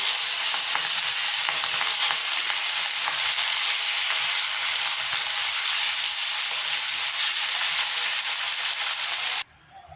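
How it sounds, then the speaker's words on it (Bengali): Steady, loud sizzling and crackling of bhetki fish frying in hot mustard oil, continuous without pause, cutting off abruptly at the end. "তেল গরম হয়ে গেছে, এবার মাছগুলো ভেজে নেব।"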